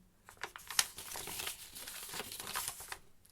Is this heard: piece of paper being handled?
yes